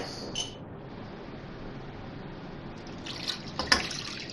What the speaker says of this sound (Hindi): और ये मैंने पानी डाल दिया इसमें